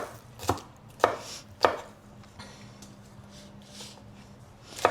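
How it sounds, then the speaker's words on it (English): Knife chopping fiddlehead fern on a board in a home kitchen, several sharp, close chops in an uneven rhythm with quieter cutting in between, no talking. "The only part that's time-consuming in this recipe is cutting this vegetable up"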